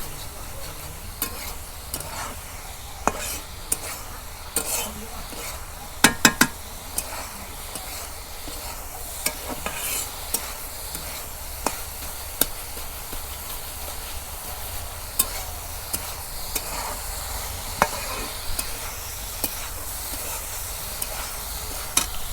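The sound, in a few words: vegetables frying and being stirred in a pan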